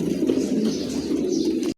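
A close, low chorus of cooing pigeons rolls on steadily for a brief moment before cutting off abruptly.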